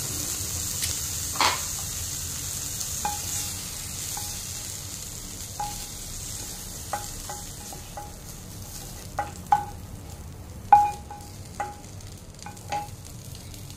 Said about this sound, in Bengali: এবার আমি চিংড়ি মাছের মাথাগুলো দিয়ে দিচ্ছি। একদম হালকাভাবে ফ্রাই করে উঠিয়ে রাখবো।